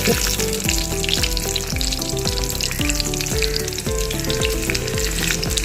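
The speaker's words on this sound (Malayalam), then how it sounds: "ആവശ്യത്തിന് വെളിച്ചെണ്ണ ഒഴിച്ച് ഒരു സ്പൂൺ കടുക് ഇട്ടു ചെറിയ ഉള്ളി" Mustard seeds and small onions fry in hot coconut oil for a shrimp curry, a dense continuous loud sizzle with rapid crackling and popping seeds, close and steady throughout.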